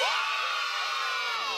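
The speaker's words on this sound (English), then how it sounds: "Oh, you're cheering now" A wrestling arena crowd cheers and whoops in a steady, dense roar that fills the whole moment, with no single voice standing out.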